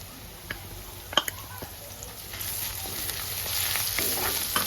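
Ginger garlic paste hits browned onions in a pan for a chicken fry, with a steady sizzle that swells louder and denser as it goes, marked by a few sharp clinks near the start.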